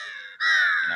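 At the Swaminarayan temple in Chhapaiya near Ayodhya, a single crow gives one drawn-out, harsh caw, close and loud, right after a fainter call fades.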